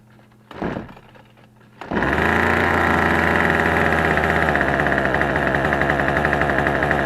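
TroyBilt XP string trimmer with a ZAMA carburetor coughs once after a cord pull, then catches and runs at a loud, steady high-pitched two-stroke drone close by.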